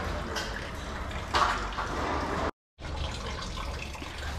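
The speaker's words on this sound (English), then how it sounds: "Let's go stop that water from running." Water rushes and splashes steadily from a hose valve, a continuous close hiss that cuts out briefly and then resumes.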